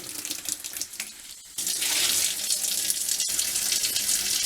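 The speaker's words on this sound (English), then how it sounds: "So I have this faucet wide open" A faucet opened wide on a system fed by a Geesen GE090T tankless water heater, water gushing steadily; a softer stream jumps to a louder full flow partway through and keeps rushing close by with no talking.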